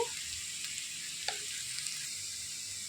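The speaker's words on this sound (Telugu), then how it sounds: "ఉల్లిపాయలు అనేవి బాగా వేగాయండి" Onions fry with salt and turmeric in a pan, making a steady, soft sizzle with an occasional stir, heard alone and at moderate distance.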